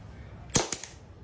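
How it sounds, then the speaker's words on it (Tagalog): An airsoft Beretta M92 pistol gives two or three sharp, snappy pops in quick succession, close and loud against a quiet background. "So taas natin para ready to fire na. Yan. So yan. So test fire."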